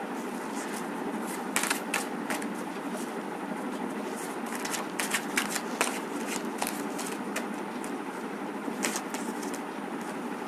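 Tarot cards are shuffled close by in a steady run of soft riffling bursts and papery flicks that repeat throughout, fairly quiet and with no talking.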